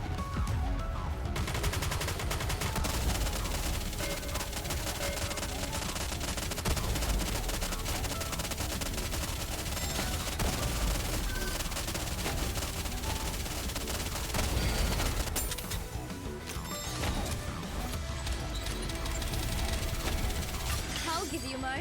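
Dense gunfire bombardment from Goddess of Victory: Nikke fills the whole stretch as a loud, continuous barrage of shots and blasts, with game voice lines spoken over it.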